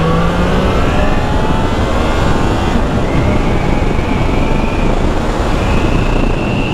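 Triumph Trident 660 three-cylinder motorcycle engine revving while riding, a loud continuous drone with rising tones and heavy wind rush throughout.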